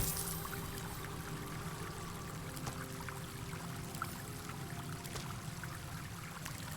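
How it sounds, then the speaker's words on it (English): Continuous flowing water in a Baldur's Gate 3 scene: an even, quiet rushing stream with faint trickles and occasional soft ticks, unbroken throughout. "I also don't know how you'd sleep with the sound of the water."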